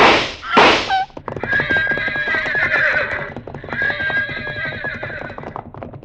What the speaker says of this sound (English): The pack horses reared at the shots.